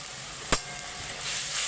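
Onions frying in a pan with turmeric powder, a steady soft sizzle with one sharp stir or clatter partway through, fairly quiet throughout.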